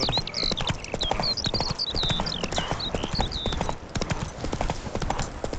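A horse trots in The Witcher video game, with steady, evenly spaced clip-clop hoofbeats close up and continuous chirping birds high above them.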